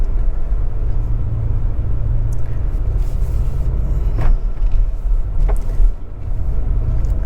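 A Mazda CX-50 four-cylinder SUV accelerates while towing a 3,500-pound utility trailer, giving a steady, loud low cabin rumble and road noise with no talk.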